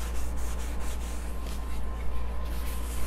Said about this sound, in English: we get that nice and cleaned off, get all of that sanding mess off of your surface